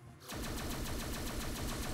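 Homing missiles fire in rapid succession in the video game Neon Chrome, a loud, dense run of repeated launch bursts that starts abruptly after a brief quiet moment and keeps going without a break.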